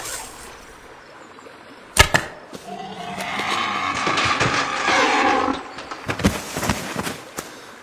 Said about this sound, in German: Uncas, ich überlasse das Tier deinem Pfeil.